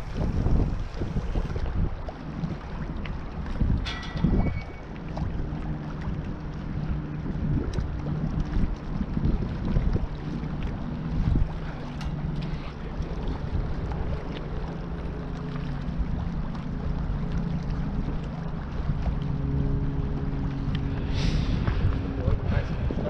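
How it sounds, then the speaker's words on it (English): Strong wind roars steadily across the microphone aboard a fishing boat, a dense broadband rush with low rumbling gusts lasting throughout, while people talk intermittently over it. "Yo, where the heck did all this wind come from?"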